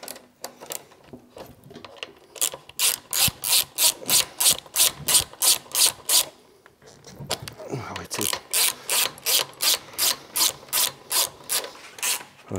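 Ratcheting as parts are unscrewed from a Peugeot 103 moped engine from a barn find: two long runs of rapid, evenly spaced clicking strokes, close and loud, with a short pause between them and faint talk in places.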